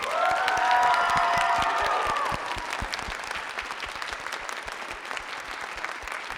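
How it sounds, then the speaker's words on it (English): A theater audience claps after a school theater department's stage adaptation, dense applause that begins loud over a brief voice and then settles into a slightly softer, continuous round. "So one more round of applause for all these wonderful people."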